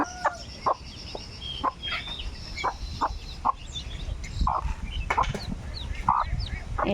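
Barnyard fowl cluck and call near a mother hen that hatched a brood of ducklings, short vocal bursts repeating irregularly over a steady outdoor background, with no talking.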